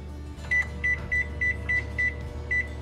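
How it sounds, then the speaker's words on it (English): A microwave oven started for a rice or bean heat pack, with a run of about seven short button beeps over its low steady hum, close by. "We're gonna take it to the microwave"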